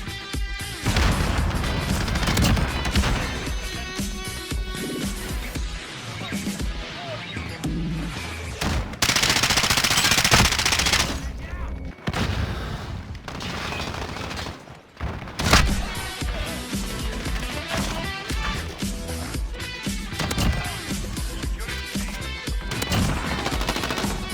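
Remington 725 shotgun loaded with slug rounds in Modern Warfare, blasting repeatedly amid heavy gunfire from other weapons, loud and close, with dense overlapping shots and a few brief lulls.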